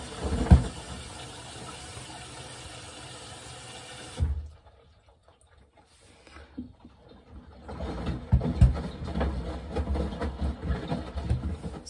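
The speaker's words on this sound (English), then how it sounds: "Now it's just doing the final tumbles to just drain the final rinse water." A Whirlpool WFW92HEFC0 front-load washer drains its final rinse water while tumbling, a rushing water and pump noise that drops away to near silence midway, then returns as gurgling churning, close and moderately loud.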